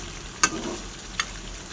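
Food frying in a pan with masala spices is stirred, giving a steady low sizzle broken by two brief scraping knocks of the spoon against the pan, close and fairly quiet.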